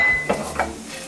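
Pine nuts tipped into hot oil in a pan, with soft sizzling and a couple of brief stirring scrapes against the pan, close and moderate in volume.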